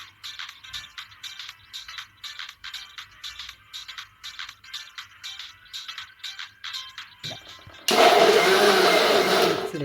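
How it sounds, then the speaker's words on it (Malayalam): Kitchen mixer grinder blending muskmelon with milk into juice: a pulsing series of short whirring bursts, then a loud continuous high-speed grind near the end. "മിക്സിയിലിട്ട് നന്നായിട്ടൊന്ന് അടിച്ചെടുക്കാം."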